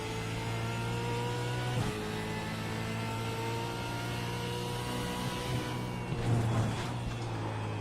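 A V8 Supercar engine in a racing video game holds a steady, loud drone, then blips and revs briefly near the end, heard alone without talk.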